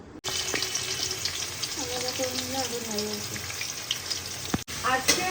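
Ghugni, a vegetarian dish, cooks in mustard oil in a home kitchen, a steady close sizzle joined by brief clinks and stirring, with a voice speaking softly partway through.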